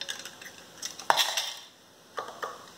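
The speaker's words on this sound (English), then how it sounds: "the next thing that we're going to do is we're going to put the lids on" Light metallic clinks and a sharp clatter as metal lids are handled and set onto glass canning jars filled with hamburger, a few scattered taps, quiet and close.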